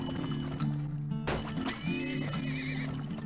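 Horses in the oil-drilling video game Turmoil, with repeated whinnies, neighing and light clip-clop hoofbeats over a steady game background tone, a sharp click near the middle.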